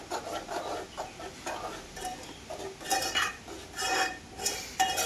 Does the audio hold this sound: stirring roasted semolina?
yes